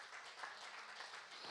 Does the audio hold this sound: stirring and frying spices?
no